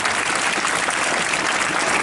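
Audience applause at a school NCC Day celebration in India, a dense, even wash of clapping that holds steady and loud throughout, with no talk over it.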